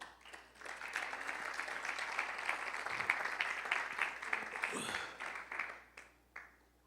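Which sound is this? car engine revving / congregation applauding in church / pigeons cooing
congregation applauding in church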